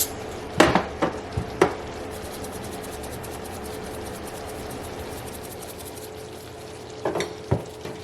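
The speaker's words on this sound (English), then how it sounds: "And you just give it a little stir." Shrimp scampi sauce is stirred in a pan with a utensil, a soft steady sizzle broken by a few sharp scrapes and clinks against the metal, with a couple of taps near the end.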